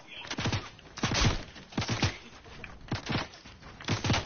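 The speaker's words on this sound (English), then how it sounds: "I swear to God, I just heard an assault rifle." Bursts of assault rifle fire in an online multiplayer shooter, several rapid volleys repeating at regular intervals, loud and fairly close, with a faint voice underneath.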